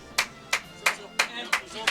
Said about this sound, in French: Dramatic clapping.